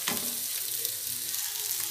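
Shallot and curry leaf tempering hisses as it is poured into a Kerala-style roasted-coconut aavoli (pomfret) fish curry, a steady close sizzle with bubbling crackle running through the whole moment.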